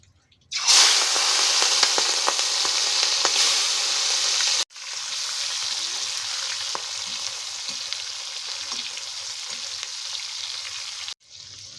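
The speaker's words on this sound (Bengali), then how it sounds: "এবার আমরা চিংড়িগুলোকে আমরা ভেজে নেব।" Prawns drop into hot mustard oil in a kadai and burst into a loud, steady sizzle that holds, briefly cuts out, then resumes slightly softer with faint stirring clicks before stopping; no one talks.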